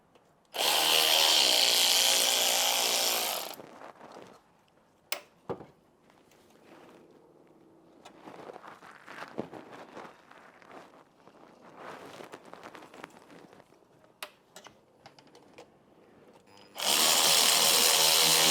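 A hose clamp is tightened on a car's coolant hose during a thermostat and coolant temperature sensor replacement. Two loud bursts of a powered driver come at the start and end, with quieter clicks and handling noises between them.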